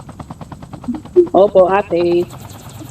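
Helicopter chopping steadily in the Call of Duty Mobile Blackout battle royale, a rhythmic rotor pulse heard under loud, close talking.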